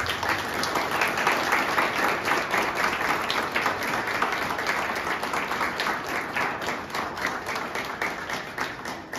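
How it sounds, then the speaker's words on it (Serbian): A book-launch audience in Lukavac applauds, dense even clapping from many hands sustained at full strength for the whole stretch without a break. "molim vas da ih pozdravite jednim velikom aplauzom"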